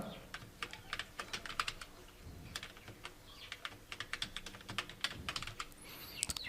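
Quiet, uneven bursts of keystrokes tap on a computer keyboard, close and alone, with short pauses between the runs of typing.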